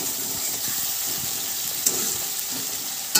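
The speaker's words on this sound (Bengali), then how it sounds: "মশলাগুলো রেডি হয়ে গেলে যেহেতু একটু নাড়াচাড়া করে তোমাদেরকে দেখালাম" Spice masala frying in oil in a pan for an egg dish, a dense continuous sizzle with soft scraping from stirring and a couple of brief clinks.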